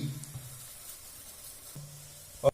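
Ghee hits a hot steel pot while payasam is being made, giving a soft, steady sizzle that fades to a quiet hiss and ends with a sharp clink of metal.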